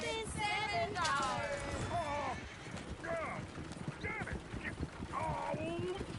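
Horses clip-clop and whinny repeatedly in Red Dead Redemption 2 amid game-like mechanical clatter, with voices talking over the hooves.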